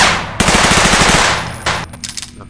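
A submachine gun in Garry's Mod lets off a loud rapid burst of close automatic shots, followed by a few mechanical clicks and handling sounds.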